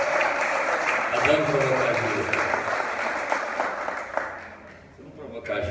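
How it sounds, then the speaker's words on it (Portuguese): A congregation in church applauds, a dense wash of clapping that fades toward the end, while someone speaks over it. "Aplauda o Senhor pela vida."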